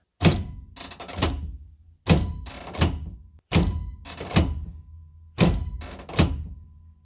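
A transbrake button on a drag-racing car with Holley EFI is banged repeatedly. Roughly seven sharp, close thunks land in loose pairs, each with a short rattling tail, and no one speaks.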